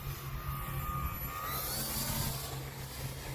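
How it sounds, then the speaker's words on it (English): Small RC airplane engine at about quarter throttle with flaps down during a slow landing approach, a steady moderate whine and buzz heard from a distance, without talk. "Here we're at about a quarter throttle,"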